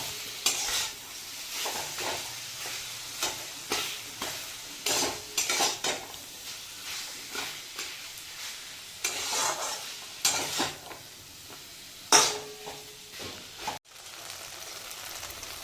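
Masala with whole tomatoes is stir-fried in a pan for a cauliflower and katla fish curry: a soft sizzle under repeated scraping strokes of a spatula against metal, close and irregular.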